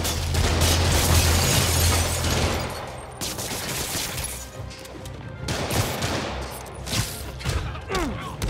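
Rapid bursts of gunfire and loud impacts crackle through a Spider-Man Remastered game fight on PS5, dense and chaotic, with shouting voices mixed in.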